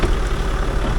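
Vehicle engine idling in a steady low rumble, close and fairly loud, with no speech over it.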